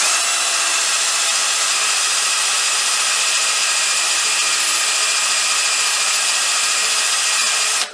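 Grinder spinning down after being switched off in a workshop during a BSA or Royal Enfield 350 trials bike rebuild, a loud steady whine and hiss that holds throughout before cutting off at the end.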